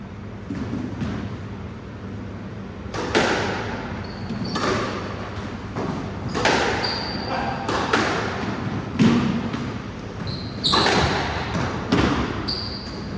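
Squash ball struck repeatedly during a 40+ ranked squash match at a club court, sharp echoing thuds and cracks at irregular intervals roughly a second or two apart, with room reverberation and faint voices in the background.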